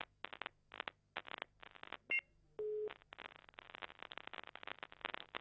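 A telephone busy signal on a failed call, repeated short tone pulses in a regular on-off rhythm, with a couple of brief beeps and a longer steady tone in between, faint and without talk.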